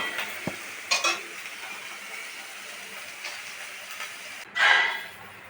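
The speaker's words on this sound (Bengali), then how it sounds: "কড়াইতে অল্প তেল দিয়ে শুকনো লঙ্কা আর গোটা জিরে ফোড়ন দিয়েছি" Dried red chilli and whole cumin seeds temper in a little oil in a wok, giving a soft, steady sizzle with a few utensil clinks and a brief louder hiss near the end.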